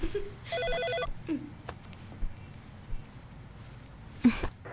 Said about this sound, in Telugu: స్మిత, ఆ ఫోన్ తీయవే.